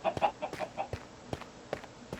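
A bone chicken from a modded Minecraft pack gives a string of short, rhythmic clucks, moderately loud and close, with no talking over them.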